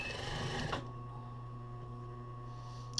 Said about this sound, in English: And then I'm just going to sew down the other side.